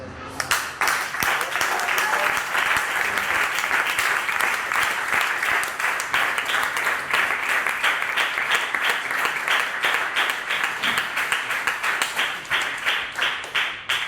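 A church congregation claps together through a long stretch of Bible study, the applause thick and continuous with some rhythmic clapping at a fairly steady level.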